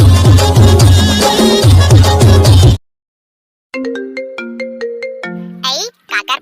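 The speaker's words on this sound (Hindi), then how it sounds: "काकर फोन आ रहा है" A mobile phone ringtone in a Chhattisgarhi cartoon comedy plays a loud melodic tune, cuts to silence, then resumes with a plucked, bell-like jingle of rhythmic notes.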